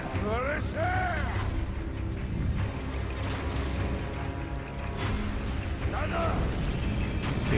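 Firecrackers from the game Sekiro, heard as bursts and crackling pops in gameplay over rumbling game sounds, with someone talking throughout.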